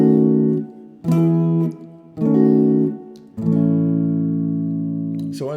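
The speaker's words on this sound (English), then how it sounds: "if we were to play a 1, 4, 5 chord progression in Lydian" Guitar strumming a I–IV–V chord progression in Lydian mode, four sustained chords in turn with the final one left ringing, played alone without voices.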